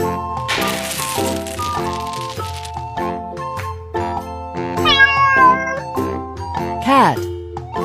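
A cat meows twice over a cheerful musical backing, with a jingling burst near the start.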